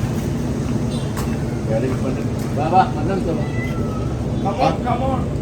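A cat meows a few times at a shop, short harmonic cries rising above a steady background hum.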